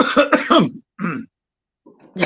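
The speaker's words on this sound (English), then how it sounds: "I was coughing, clearing my throat." A few sharp coughs and a throat clearing, close and fairly loud, separated by short silences.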